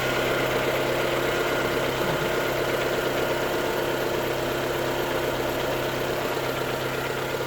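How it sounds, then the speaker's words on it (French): A Renault Mégane 1.6 16v engine idles steadily at close range after a TDC sensor fault, a continuous low rumble with a faint rhythmic knock and no voices. "Et vous allez entendre le moteur qui tourne."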